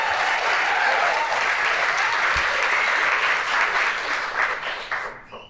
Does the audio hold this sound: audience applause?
yes